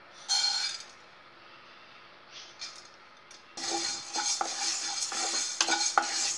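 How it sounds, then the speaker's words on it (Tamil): Rice and moong dal dry-roasting in a pan for pongal, stirred with a utensil that scrapes and clinks against the metal in an irregular rhythm, quiet at first and then steadier and louder, with no talking. "இதை வந்து இப்போ இளம் வறுப்பாக வறுத்து எடுத்துக்கிடுவோம்."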